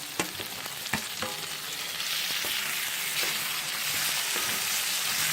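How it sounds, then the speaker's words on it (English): Three small chopped tomatoes frying with onions in a pan for Kerala-style Malabar chicken biryani, a steady loud sizzle that swells as they cook, punctuated by repeated scraping stir strokes. "Okay, now I'm going to be adding tomatoes."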